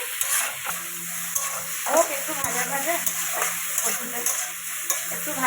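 Taro pieces sizzle and crackle in a hot pan, with a utensil stirring and scraping now and then, close up and fairly quiet.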